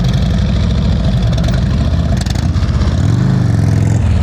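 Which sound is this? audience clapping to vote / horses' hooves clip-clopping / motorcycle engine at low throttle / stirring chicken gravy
motorcycle engine at low throttle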